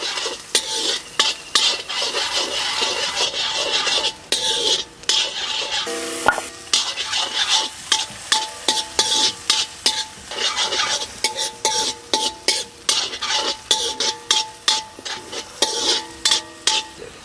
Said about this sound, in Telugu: ఈ ఉల్లిపాయలు 3 నిమిషాల పాటు వేయించుకోవాలండి.